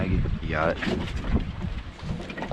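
Gusty wind buffets the microphone aboard a tautog fishing boat at sea off New Jersey on a rough morning, a constant low roar beneath a brief spoken line.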